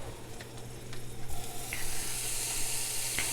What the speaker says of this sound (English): we're going to melt the butter down